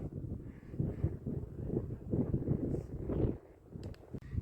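Low, gusty wind buffets the microphone on an open, treeless rocky hilltop in Idukki, rising and falling in rough bursts, fairly close and dull.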